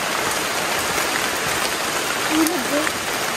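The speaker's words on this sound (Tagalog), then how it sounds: "May ilog. Ang ganda." A river stream at Hagdan Hagdan Waterfalls in Mauban, Quezon rushes with a steady broadband wash of flowing water, close and continuous, while a person's voice briefly comes through near the end.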